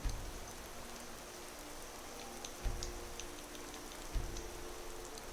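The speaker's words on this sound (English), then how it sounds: "So it's raining" Steady rain pours down in a video game, a soft, even hiss of falling drops with a couple of faint low thumps, heard alone at low volume.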